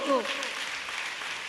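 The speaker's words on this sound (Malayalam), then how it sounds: "നല്ലൊരു കൈയടി കൊടുക്കൂ" A crowd applauds in a dense, steady wash of clapping at a public cultural meeting in Palakkad, with a brief voice heard at the very start.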